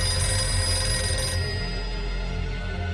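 A telephone bell rings loudly and steadily for about a second and a half, then cuts off, leaving a low room hum beneath; no voices are heard.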